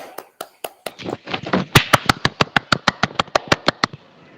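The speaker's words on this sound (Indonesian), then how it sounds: "Tepuk tangan." A small classroom group claps: a few scattered claps at first, then a brief burst, then a sharp, evenly spaced run of loud, close single claps that stops abruptly.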